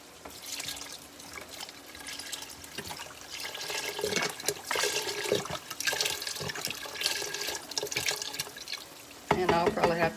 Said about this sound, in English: And I'm going to go ahead and put this bone broth in there.